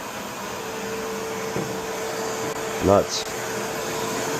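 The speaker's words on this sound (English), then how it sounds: "You can't hear this vacuum cleaner at all, only from the suction." A quiet vacuum cleaner runs with a low, steady suction hiss and hum throughout, and a person briefly speaks over it near the end.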